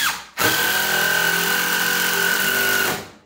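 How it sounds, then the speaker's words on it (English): Impact driver sinking screws while closing in a wall opening for a flat screen TV, one steady loud buzzing whir of about two and a half seconds, starting abruptly and then winding down, close up with no talk. "this is an impact driver. Far superior than trying to use a drill for this."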